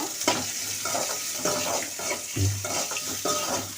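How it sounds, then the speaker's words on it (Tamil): Onions being stirred and sautéed in a pan for a cluster bean gravy: a continuous close sizzle broken by repeated scraping strokes of a spoon against the pan. "வெங்காயத்தை வந்து வதக்கி விடுவோம் நல்லா"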